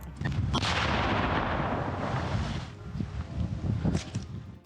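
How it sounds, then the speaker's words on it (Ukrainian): A loud, sustained boom with rumbling low end rolls on for several seconds, then breaks into scattered thuds and crackling debris as it fades: a battlefield explosion near Pokrovsk, Ukraine. "Та зрештою лунає вибух, який завершує місію"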